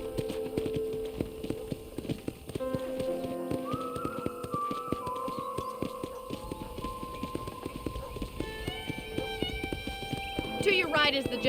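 Horse hooves clip-clopping at a steady trot in Red Dead Redemption Remastered, with a whinny, continuous and fairly close under game dialogue and background music.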